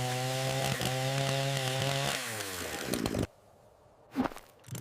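A chainsaw engine runs loud and steady at close range for about three seconds, its harmonic drone dipping as it slows, then cuts out to near silence before a brief sharp noise.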